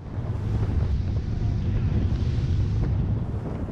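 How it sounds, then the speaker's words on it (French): Selva 900 S-Line rigid inflatable boat with twin 225 hp outboards planing at 11 knots, a loud, steady low engine roar and rushing water buried under heavy wind buffeting on the microphone. "nous sommes déjà en planage, 2100 tours minute, 11 nœuds."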